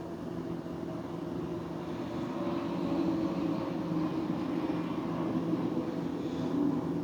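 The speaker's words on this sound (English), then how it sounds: "Never mind the airplanes, they're taking people to wherever they need to go." An airplane passes overhead, a broad, steady low roar that swells slightly over about seven seconds, heard outdoors during a quiet yin yoga session with no speech.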